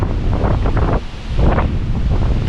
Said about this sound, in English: the wind cuts across here